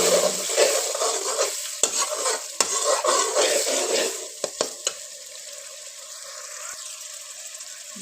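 Chicken curry masala with tomatoes frying and sizzling in a pan in a Punjabi-style gravy, with steady stirring scrapes and a few sharp utensil knocks; the sizzle is loud at first, then quieter and thinner toward the end, with no talk.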